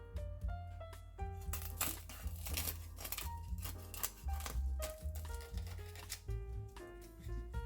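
A knife cuts through a kimchi cheese toastie fresh from the pan, giving several crunchy, crackling strokes over steady background music.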